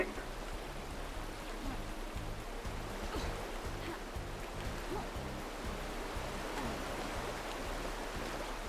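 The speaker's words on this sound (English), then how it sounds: "it's so loud down here, I swear. The running water." Loud, steady rush of running water in an underground area within the game Paradise Killer, a constant broadband roar throughout with a low hum beneath and no clear speech.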